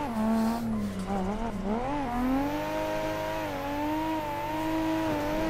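Nissan R32 drift car in a drift racing game, spec street car, engine revving loudly and steadily at high rpm with continuous rising and falling pitch while tires squeal through a long slide, no talking.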